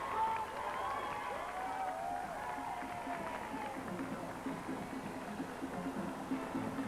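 Crowds lining the 1988 London Marathon course cheer and applaud the passing runners in a continuous, distant roar, with a commentator speaking over it.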